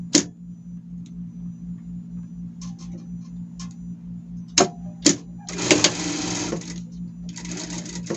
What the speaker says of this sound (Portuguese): Agora a gente vai passar uma costura por tudo, vai deixar só um pedaço aqui em cima pra gente poder virar a nossa peça.